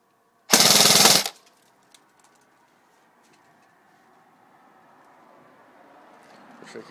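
Echo 1 ASC SCAR L airsoft gun powered by a LiPo battery fires one loud, fast full-auto burst lasting under a second, followed by near silence and faint background noise.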